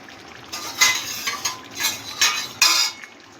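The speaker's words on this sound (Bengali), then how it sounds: "ভালো করে ঝোলের মধ্যে মিশিয়ে দিচ্ছি, যাতে ধনেপাতার ফ্লেভারটা ঝোলের মধ্যে ঢুকে যায়" Coriander leaves being stirred into a thin pabda fish curry in a pan produce a few light scraping and clinking strokes of a spatula against metal, irregularly spaced and soft, over a quiet background.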